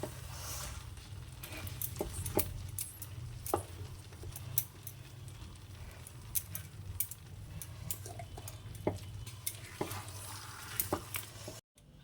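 A spoon or spatula stirs and mixes food in a kadai, giving quiet, irregular scraping clicks and taps over a soft low sizzle.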